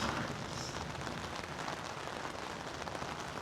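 Rain falls steadily outdoors, a dense, even hiss of drops on surfaces with no breaks, fairly close and constant throughout.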